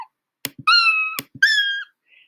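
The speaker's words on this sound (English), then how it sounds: "I'm not going to play any of them right now, except for the meow that's in here." A cat meow sound effect from the Scratch sound library plays twice, each a clear drawn-out meow, preceded by sharp clicks and soft knocks, loud and close against silence.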